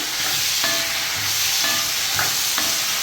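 Chopped tomatoes sizzling and being stirred on a new iron tawa, a steady frying hiss with a few scraping strokes of the spatula, close and alone without talk.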